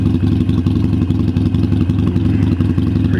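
An Indian motorcycle engine runs steadily up close, a loud low throbbing idle with rhythmic mechanical clatter and no voices.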